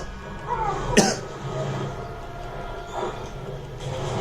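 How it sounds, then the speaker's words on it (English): A person coughs once, sharply and close to the microphone, over a low, steady background hum. "Now I'm coughing as well."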